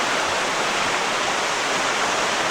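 Creek water rushes steadily along a trail, a loud, continuous broadband wash with no pauses or other sounds.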